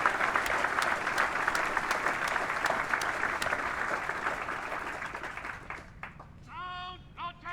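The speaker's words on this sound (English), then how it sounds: "join me in a round of applause for the Trade-Out Command Band from Fort Eustis," A seated ceremony crowd gives sustained, dense applause for a military command band from Fort Eustis, Virginia, at a change of command ceremony. The clapping thins out after about six seconds, and a voice then calls out.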